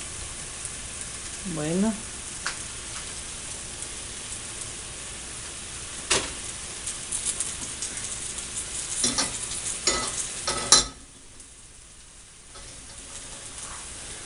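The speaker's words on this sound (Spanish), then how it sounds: "Aquí vamos a echar a freír ahorita la salsa." Morita chile salsa poured into hot oil gives a steady close sizzle with stirring scrapes and knocks of a spoon, growing busier before it cuts off. A voice speaks briefly over it.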